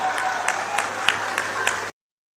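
Audience applause for Kumar Vishwas, a short burst of even clapping that cuts off abruptly after about two seconds.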